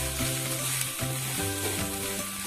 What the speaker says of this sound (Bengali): আমি এখানে মাঝারি সাইজে তিনটে পেঁয়াজ দিয়েছি